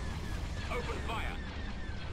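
Starship cannon fire and explosions from a space battle in Star Wars Empire at War, a steady dense rumble of blasts with bursts of crackling fire layered on top, mixed with talking throughout.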